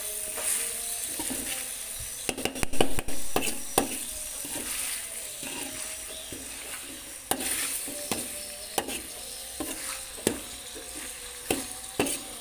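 Chicken sizzles and hisses steadily in a hot pan after boiling water is added, with sharp stirring knocks and scrapes of a utensil scattered throughout.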